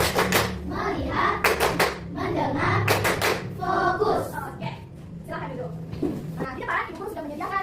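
A class in a Catholic religious education lesson performs the 'tepuk fokus' clapping ice breaker, with short bursts of sharp, patterned group claps in a set rhythm alternating with chanted voices of the students and teacher.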